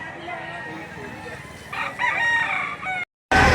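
A rooster crows loudly nearby while other chickens cluck in the background at a chicken market in Lipa City, Batangas; the sound cuts out briefly and returns loud at the end.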